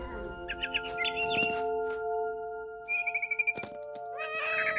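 Cat meowing in the video game What Remains of Edith Finch, drawn-out meows over a sustained musical backdrop with bird-like chirps and tweets, no talking.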